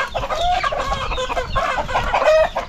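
Rhode Island chickens cluck and squawk close by in a busy, continuous chatter of short calls, with no talking.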